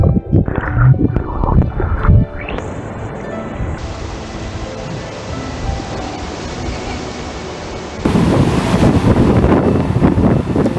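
Sea surf washing onto a beach on Nusa Penida, a steady broadband rush heavily buffeted by wind on the microphone, with people talking briefly at the start.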